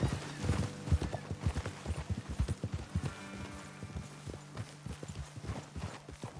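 Horse hooves clip-clop in Red Dead Redemption 2 in a steady rhythm at close range, with a brief whinny and a low background hum.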